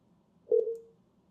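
A single short electronic phone tone from a call ringing through a Twilio phone system, clean and close, rising out of near silence and fading quickly.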